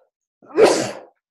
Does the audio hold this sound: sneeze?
yes